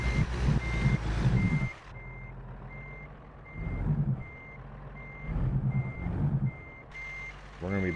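A truck's reversing alarm beeps at a steady even rhythm while it backs up in American Truck Simulator, over a low engine rumble that swells and fades.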